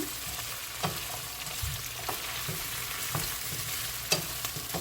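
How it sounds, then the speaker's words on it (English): String beans stir-fry on a low flame in a Jamaican-style kitchen, a steady soft sizzle with occasional spatula scrapes against the pan, close and unaccompanied by speech. "you're just going to stir fry these. Make sure your flame is low."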